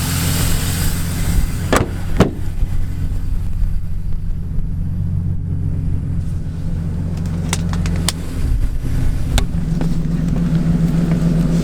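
A car engine idles roughly at close range, a steady low rumble with uneven pulsing and a few sharp knocks or clicks scattered over it.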